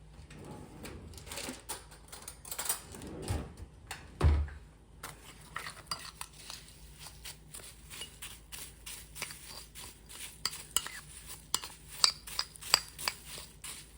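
Crumbled crackers are stirred into melted butter in a bowl, heard as repeated light scraping and clinking of a utensil against the bowl, moderately close and fairly quiet.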